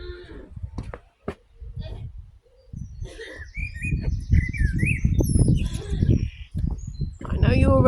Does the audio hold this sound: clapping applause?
no